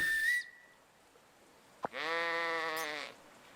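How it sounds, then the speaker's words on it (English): A sheep in the farming video game The Good Life gives one loud, clear, sustained bleat lasting about a second, after a brief whistle-like tone and a short click, with no talk over it. "Comes a sheep."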